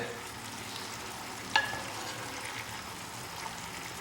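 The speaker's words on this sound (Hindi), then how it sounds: "बीच बीच में इसको हम पलट लेते हैं और हिला लेते हैं" Continuous soft sizzling and bubbling of a mutton leg being stirred and turned in gravy in a pot, with one brief clink of a utensil partway through.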